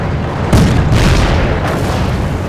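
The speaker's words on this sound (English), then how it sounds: "Just threw a grenade and killed like 20 guys" A grenade explosion in the World War II strategy game Company of Heroes, a loud close boom with a sharp onset, followed by another heavy blast moments later amid dense battle noise.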